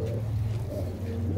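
A domestic pigeon kept by a fancier gives a brief, low, throaty coo, close and fairly soft, with no voices.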